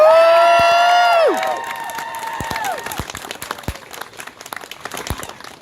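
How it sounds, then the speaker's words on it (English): Wedding guests break into a loud, sustained cheer with high whooping voices, then settle into scattered clapping and sharp individual claps that thin out toward the end. "I would like to present to the crowd for applause and loud cheers again"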